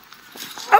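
A puppy gives a short yip or bark near the end, close and fairly loud, after a brief stretch of quiet rustling.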